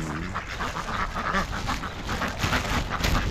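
Wild ducks in New Zealand quacking close by, with several raspy calls overlapping in a busy, uneven chorus against outdoor background noise.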